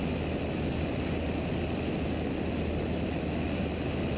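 Steady, loud drone of a small propeller airplane climbing in flight at about 104 knots, a continuous engine and propeller roar filling the whole stretch with no pauses.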